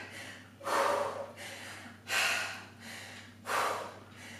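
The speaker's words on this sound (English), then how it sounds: "Breathe deep." Deep breaths during a workout, three loud close inhale-exhale bursts spaced about a second and a half apart, with quiet pauses between.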